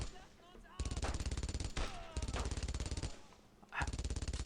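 Rapid automatic gunfire in the World War II shooter Brothers in Arms: Road to Hill 30, loud close bursts broken by brief pauses, with faint game ambience between them.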